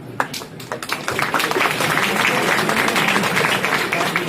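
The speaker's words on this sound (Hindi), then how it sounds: "तालियों के साथ आप सभी का समर्थन चाहूंगा" An audience at a Ram Navami poetry recital at MNNIT claps, a few scattered claps building quickly into dense, steady applause that carries on to the end.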